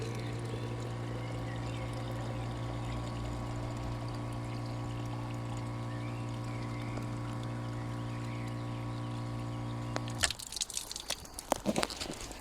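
Shrine water at Holywell in Flintshire runs in a steady pouring rush beneath a constant hum, then near the end a few close clattering knocks break in.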